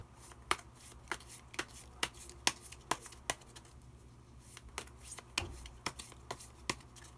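Tarot cards being shuffled and drawn, a steady series of crisp, close card riffles and flicks, soft overall with no talking.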